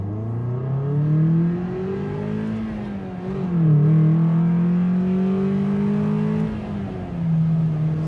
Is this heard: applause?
no